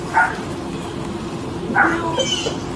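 Dogs barking in bursts near the start and again around the middle, a few short yelps over steady background noise, fairly close.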